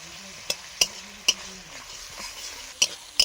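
Chopped onion with ginger-garlic paste, turmeric and chilli stirred in a hot pan for a fish curry, a soft sizzle under sharp, spaced metal spatula clinks, close and without talk.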